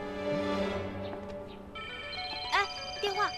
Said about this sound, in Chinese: 哎，电话。